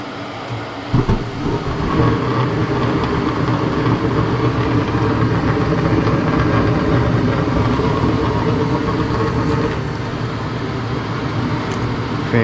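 A Goodman gas furnace with a hole in its heat exchanger starts up with a loud, steady rumbling drone and mechanical hum, a brief clunk near the start, then running evenly.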